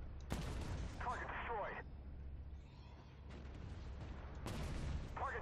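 Two sharp, faint cannon blasts from a Merkava 2C tank firing shells in Armored Warfare on the Leviathan map, one near the start and one near the end, each with a rumbling tail, and voices speaking in between.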